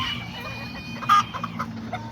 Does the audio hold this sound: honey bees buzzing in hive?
no